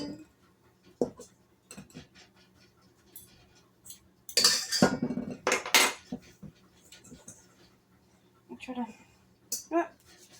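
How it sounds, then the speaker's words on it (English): Two forks chopping cold butter into flour for a homemade pie crust, irregular scraping and clinking strokes with a few loud bursts, heard close up while a person talks between them. "Use the 2 forks. Chop up the butter."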